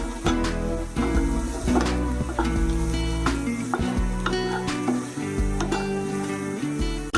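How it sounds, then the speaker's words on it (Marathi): Grated coconut and two flours sautéing in hot oil for a Konkani clam dry curry, giving a dense, continuous close sizzle with stirring scrapes and light pan knocks throughout. "आणि सोय आणि दोन्ही पिठे सुमार अर्ध मिनिट तेला भितर जराशी परतून घेवका।"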